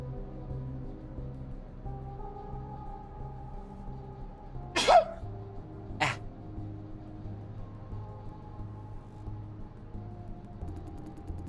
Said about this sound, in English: I've been sneezing so much over like the past week or two.